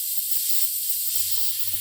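Aventus airbrush spraying paint with a 0.4 mm needle and nozzle, a steady high airy hiss close to the microphone, continuous with a faint low hum from the compressor beneath.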